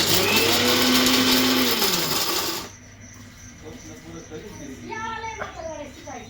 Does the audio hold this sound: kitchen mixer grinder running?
yes